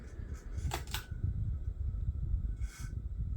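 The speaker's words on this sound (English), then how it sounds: "But even if I put it on low, you can still hear the rattle." An office ceiling fan with bad motor bearings runs on low with a steady low rumbling hum and intermittent rattling clicks, plus a brief higher swish near the end, fairly quiet and with no talking.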